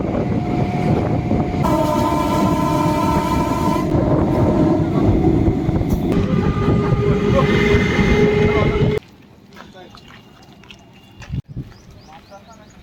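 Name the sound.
Lalgola train at Kalyani railway station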